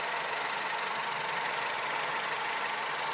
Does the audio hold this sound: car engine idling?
yes